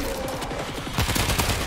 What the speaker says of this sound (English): I'm just lighting them up with a shotty.